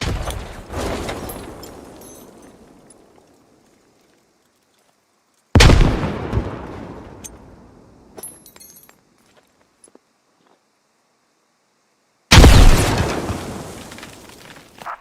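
Hand grenades explode in the military shooter game Squad: three separate loud blasts, each a sharp boom trailing off into a long rumbling decay, with stretches of silence between them.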